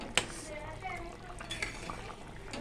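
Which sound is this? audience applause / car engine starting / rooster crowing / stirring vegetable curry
stirring vegetable curry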